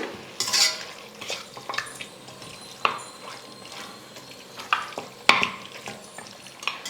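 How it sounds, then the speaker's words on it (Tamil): Mutton sautéing in oil with curd over a medium flame, with a steady sizzle broken by repeated sharp scrapes and clinks of a spatula against the pan, close and with no talking. "மட்டன் வந்து எண்ணெயிலே நல்லா வதங்கி வரணும்"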